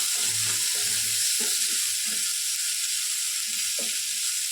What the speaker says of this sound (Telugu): ఉసిరికాయ తురుము కూడా ఇందులో వేయాలి. వేసుకొని పచ్చివాసన పోయేంత వరకు కలుపుతూ ఉండాలి.